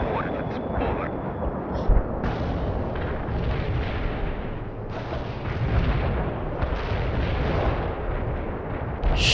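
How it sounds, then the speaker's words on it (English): A mortar barrage in the video game World in Conflict rumbles on, heavy booms and dense low crashes rolling continuously with a few sharper thumps, loud and close. "Firing mortars. The barrage will reach you soon."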